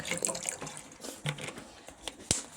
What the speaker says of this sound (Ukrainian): закипіло розтворилося ми виключаємо і заливаємо оцет